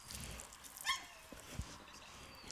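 A dog from a group of twelve at feeding time gives one short, odd, faint bark-like yip amid quiet background noise, with a couple of soft thumps around it.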